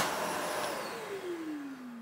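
Kärcher NT 30/1 vacuum cleaner running, a close, loud whine whose pitch sinks steadily as the motor winds down.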